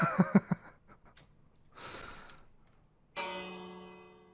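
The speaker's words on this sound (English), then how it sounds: "Oh! That's the bell." A Minecraft bell rings once with a bright, sustained metallic tone that fades slowly, following some faint breathy sounds and no talk.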